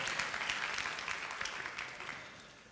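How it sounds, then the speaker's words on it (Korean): Applause from a church youth group congregation during a Sunday sermon service, a steady wash of many hands clapping at moderate level that slowly fades toward the end. "우리 박수 부탁합니다"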